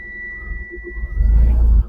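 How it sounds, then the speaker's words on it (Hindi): A TATA Marcopolo Star bus engine cranks and catches, beginning with a faint warning beep tone, then a deep, rumbling surge of low engine noise that builds strongly before cutting short. "अभी मैं गाड़ी को स्टार्ट करता हूं"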